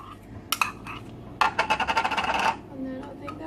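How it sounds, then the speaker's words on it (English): Spoon scraping pasta-mixed food out of a bowl: a couple of sharp knocks, then a rapid run of clattery scrapes and taps against the bowl, close and fairly loud, with no talking. "Just scrape that fully out of the bowl."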